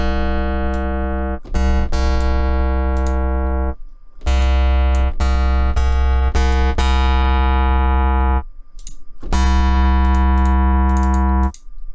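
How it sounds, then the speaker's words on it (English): Plucky string-modelled synth tones from the Rob Papen Blue III soft synth, played in three loud sustained phrases with sharp note attacks and bright harmonics, separated by brief gaps, with no talking. "I guess it's called string modeling because you can get these plucky string sounds from it."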